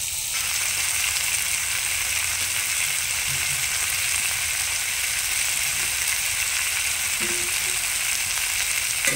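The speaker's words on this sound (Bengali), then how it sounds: "এবার মশলাটা আমি দিয়ে দিচ্ছি।" Ground onion and cumin spice paste frying in a pan for a fish curry, giving a constant loud hiss and sizzle that runs steadily throughout, close up with no talk.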